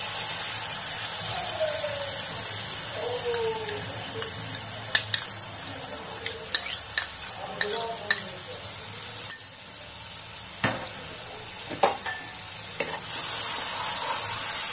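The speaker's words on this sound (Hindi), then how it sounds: "गैस का फ्लेम मीडियम करके हम मसाले को 1 मिनट भूनेंगे।" Cumin, asafoetida and a mixed dry spice blend roast in hot oil over a medium gas flame for chole chaat. A loud, continuous sizzle carries scraping stir strokes and occasional sharp clinks of a spoon against the pan.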